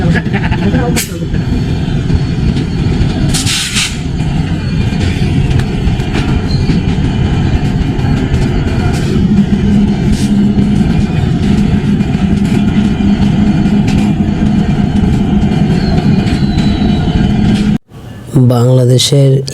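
A train's heavy rumble and clanking drone on with a few sharp metallic knocks as the locomotive couples to the carriages, while a person talks over the noise throughout.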